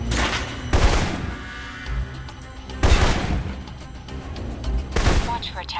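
Assault rifle gunfire in the Alpha Protocol video game, three loud bursts of shots spaced about two seconds apart, each ringing out with a booming tail over a low background hum.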